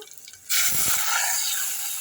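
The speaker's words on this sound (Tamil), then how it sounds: "இப்போ இந்த புளி தண்ணி எடுத்து இதில் ஊற்றிடுவோம்" Tamarind water suddenly pours into a pan of rasam with a rushing, splashing hiss that continues steadily after a quiet start.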